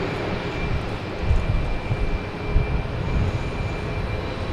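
A JetBlue Airbus A220 at hazy Boston Logan Airport, a broad, steady jet roar with a faint high whine, fairly loud and alone.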